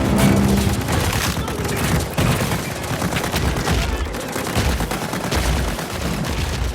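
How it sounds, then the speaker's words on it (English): Hundreds of special effects bullet hits burst through trees on a film set, a dense rapid crackle of sharp pops and bangs like sustained gunfire, with voices mixed in beneath. "We have about 660 bullet hits that we're syncing up with the camera for this shot"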